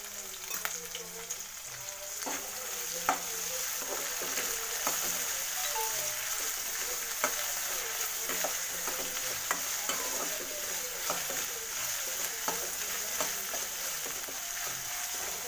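Ginger garlic paste fries in a pan as chicken masala gets going, with a steady, close oil sizzle, a high hiss running throughout, and repeated soft scrapes and clicks of a stirring spoon. No one speaks.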